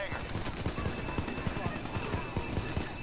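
Pistol gunfire in a video game: a rapid series of sharp shots at a fairly steady rhythm throughout, sitting in a dense game mix with faint voices in the background.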